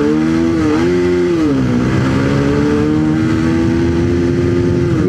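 A Bajaj Pulsar 220 motorcycle pulling away in first gear, a loud, close engine drone that rises, dips briefly, then holds a steady climbing pitch, no talk.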